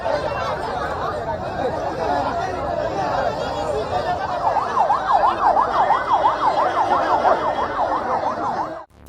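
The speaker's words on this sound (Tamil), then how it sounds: "மறியல் போராட்டத்திற்கு நடுவே வந்த ஆம்புலன்ஸ் வாகனத்திற்கு வழிவிட்ட" An ambulance siren wails in a steady rising-and-falling pattern as it moves through a roadside protest blockade, loud and fairly near, over a crowd's constant chatter and shouting.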